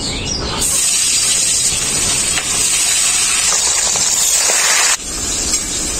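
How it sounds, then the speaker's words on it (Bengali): Rohu fish frying in very hot oil, a steady loud hiss and sizzle running throughout with small crackles, briefly dipping near the end before resuming. "তেল খুব ভালোভাবে গরম হয়ে গেছে, এখন আমি রুই মাছগুলো ভেজে নেব।"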